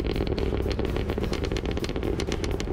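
A 2023 Cadillac Escalade-V sends out a deep, rumbling exhaust burble with quick uneven pulses, loud and close, with no talk over it.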